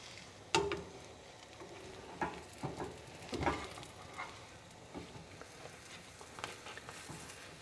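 A tortilla browns face down in a pan over medium-high heat for a breakfast burrito, with a quiet background sizzle broken by sharp scattered clicks and scraping knocks of the pan and utensil.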